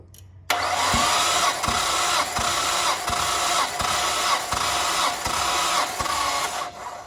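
A Nissan R34 engine cranks over on the starter during a compression test, a steady loud whirring with evenly spaced rhythmic pulses of each compression stroke, starting abruptly and running for several seconds.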